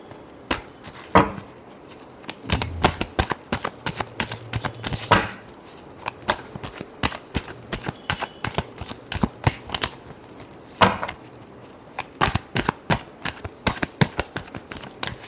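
Tarot cards being shuffled by hand, a close series of crisp riffles and sharp slaps repeating irregularly throughout, with no voices over them.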